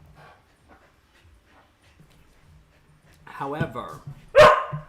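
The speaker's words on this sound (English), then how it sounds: "I am so sorry about the barking." A dog barks a few times close by near the end, sharp loud yaps following quiet stretches with faint whimpering and a voice speaking.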